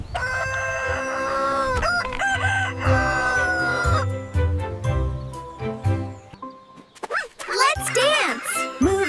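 A cartoon farm rooster crows loudly over bright music and chirpy animated voices, with warbling rises at the end.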